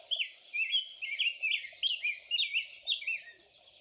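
A non-breeding adult bird gives rapid, bright chirps in quick repeated bursts, steady and close, with a faint lower background of other birdsong and no voices.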